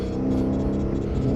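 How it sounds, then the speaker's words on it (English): Low, steady exhaust rumble from a BMW M car heard from inside the cabin while driving, a continuous deep drone with faint road whir and no speech. "Speaking about the exhaust setup, there's like really no drone. Like, it's a good exhaust rumble in here"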